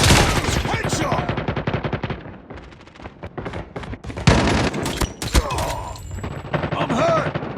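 Desert Eagle pistol fire in the Call of Duty Mobile video game sounds as loud, dense bursts of gunshots with sharp impacts. Synthetic in-game voice callouts are heard over the shooting.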